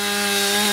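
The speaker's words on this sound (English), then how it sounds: "that sweet sound of chainsaws." Steady, close chainsaw drone cutting wood after a storm, with a constant buzzing whine, running without pause through the whole short stretch.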